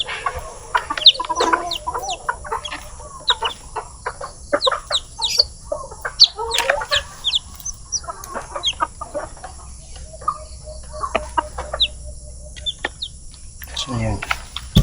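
Chickens and small chicks cluck and cheep steadily at close range while being fed on a farm, busy overlapping calls with a person talking briefly.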